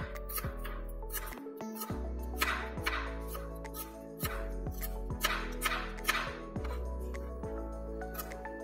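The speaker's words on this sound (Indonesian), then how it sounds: "Bawang merahnya juga kita iris." Shallots are sliced with a kitchen knife in a series of sharp, evenly spaced cuts, each a crisp tap on the board, with soft tonal music running underneath.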